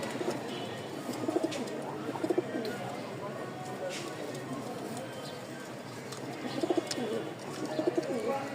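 A pair of white Rajshahi pigeons coo softly in short repeated bursts, with faint ambient noise and occasional distant voices in the background.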